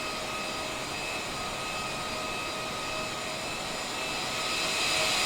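Steady broadband roar of Boeing 787 Dreamliner jet engines in a simulated flight, a constant loud drone with faint tonal whine, swelling slightly near the end with no voices.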